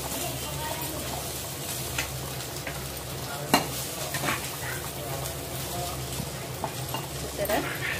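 Bitter gourd slices seasoned with chili powder fry in a pan with a continuous sizzle, while a spoon stirs and scrapes them in irregular strokes with an occasional sharp knock.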